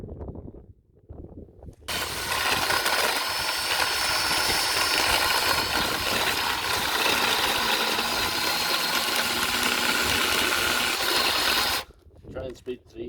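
A cordless drill fitted with a chainsaw attachment, its chain lubricated with WD-40, whirs loudly and steadily for about ten seconds after a short lead-in, then cuts off abruptly.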